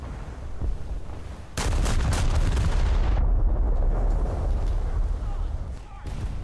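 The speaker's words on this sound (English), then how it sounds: "let's open up my broadside" Scharnhorst battleship firing a broadside in War Thunder, a massive close boom followed by a sustained rumbling roar and echoing blasts that slowly fade, with a voice speaking over it.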